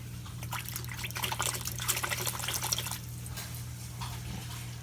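Water trickling and dribbling out of an aquarium sump stand, a faint, uneven splashing over a constant low hum of pumps.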